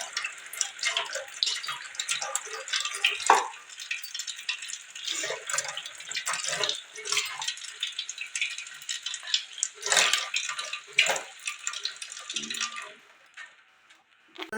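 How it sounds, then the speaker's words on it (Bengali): Hands are washed under a running tap at a home sink after a meal, with a steady, moderately loud splash of water and irregular bursts and clatter, and no talking. "হাতটা ধুয়ে নিই"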